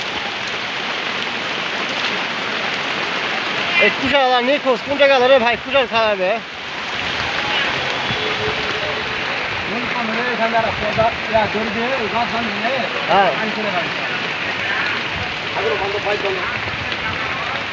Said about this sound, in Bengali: বৃষ্টি ভিডিও করলাম